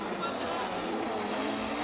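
Drift cars at Formula Drift Japan in Okayama, 2015, with Yokoi's car sliding at huge angle through a corner: a steady roar of engines and tire squeal with a commentator talking over it.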